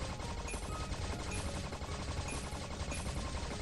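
Rapid gunfire from the fish-shooting video game Mermaid Hunter, a dense, unbroken stream of shots that stays loud and busy for the whole stretch, with no pauses between bursts.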